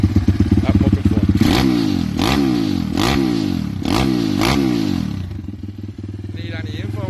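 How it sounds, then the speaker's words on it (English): A CW190 pit bike with a big engine, rated at 70 mph or more, idles loudly up close and then revs sharply four times in a row before settling back to a rough, steady idle. "So the brand new CW190 pit bikes at Muck and Fun."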